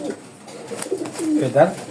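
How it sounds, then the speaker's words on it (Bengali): A high flyer pigeon coos close by in soft, rolling low calls, with a voice speaking over part of it. "এটা হাইফিলার কবুতর"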